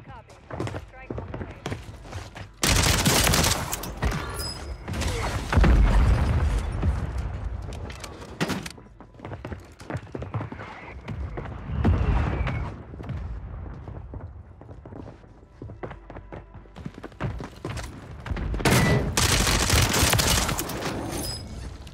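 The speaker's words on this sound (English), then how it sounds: "Mortar support incoming" Heavy mortar strike blasts in Call of Duty Warzone 3, several loud booming impacts landing in clusters over about twenty seconds, interspersed with gunfire and players talking between the explosions.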